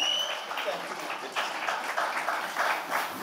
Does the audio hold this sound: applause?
yes